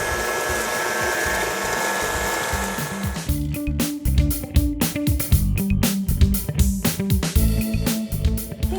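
Vanilla cupcake batter gets mixed in a bowl. A loud motorized whirr kicks in partway through with choppy, uneven pulses as the beaters work the batter, after a steady hum.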